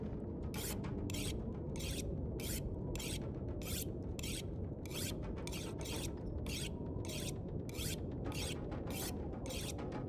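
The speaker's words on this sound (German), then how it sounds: "Und wir schleifen jetzt erstmal munter das Beil zu Ende." A hatchet being sharpened on a whetstone in the video game The Long Dark, a steady rhythm of rasping strokes about twice a second over a constant low ambient rumble, quiet and without talk.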